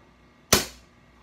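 A BB hunting gun fires a single sharp shot in a quiet room, a crisp crack followed by a short fading hiss with no talk around it.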